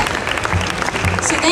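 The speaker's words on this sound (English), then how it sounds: "So how about you guys give a round of applause to these guys" An audience at an Easterfest concert claps in a steady, dense burst of applause, close and loud throughout.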